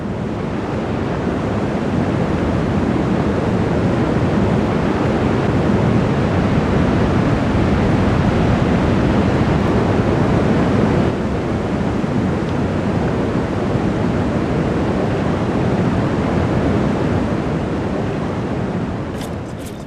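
Turbulent waters of the Santa River in the Andes, rushing through a canyon as a loud, unbroken roar of churning water that holds steady throughout with no voices.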